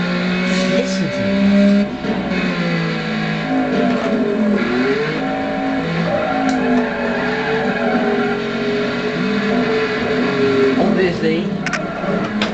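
A 300 bhp Ferrari Challenge race car weighing about 1,000 kg revs hard and close, its engine note rising and falling through gear changes with tyre squeal, with a voice talking over it.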